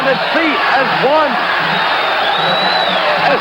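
A boxing crowd on its feet between rounds, a loud, dense wall of cheering and roaring that holds steady throughout, with a commentator's voice and whistling noises over it.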